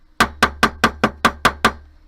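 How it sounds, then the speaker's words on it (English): A rawhide mallet strikes metal eight times in a steady, even rhythm, each blow a sharp ringing thud, close and loud, with no talking, flattening a piece for lyre-shaped earrings. "I can just take a rawhide mallet, which is what I'm going to do"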